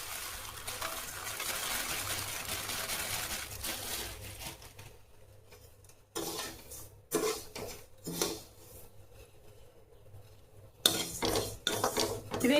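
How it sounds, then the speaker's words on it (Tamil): Cumin and fennel seeds dry-roast in a pan, with scraping stirs and soft rattling at first, then quieter stretches broken by short bursts of utensil scrapes against the pan; no one speaks. "இதையும் வாசனை வர வரைக்கும் வறுத்துடலாம்"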